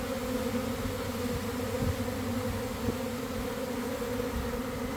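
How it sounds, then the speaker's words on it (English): A honeybee swarm fans at a hive entrance, giving off a dense, steady buzzing drone that holds evenly throughout, close and continuous, with no voices. "We have a number of bees now beginning to fan, spreading their homing pheromone."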